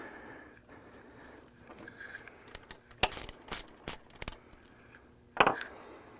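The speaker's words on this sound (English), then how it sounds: "For this one, I'm going to use the number 6 Allen wrench and a number 13 socket." A socket wrench loosening the front caster of a standard manual wheelchair, heard as a cluster of sharp metallic ratcheting clicks in quick bursts over a quiet room, then one final louder click.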